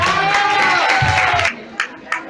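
A crowd of women at a Sant Quirze gathering claps and cheers, a loud burst of applause mixed with voices that breaks off halfway, followed by a few scattered claps.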